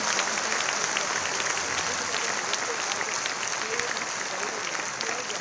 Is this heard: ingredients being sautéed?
no